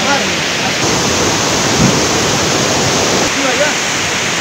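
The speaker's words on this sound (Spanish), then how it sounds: "Estamos en la cascada Velo de Novia." The Velo de Novia waterfall in Eloxochitlán, Oaxaca, roars as a steady, dense wash of falling water, loud and close throughout with no break.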